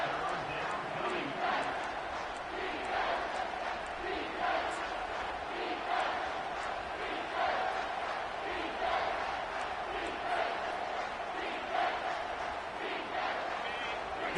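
Stadium crowd in a college football video game, UCLA at Texas, a steady roar of cheering and chanting that fills the background throughout, with game commentary running over it.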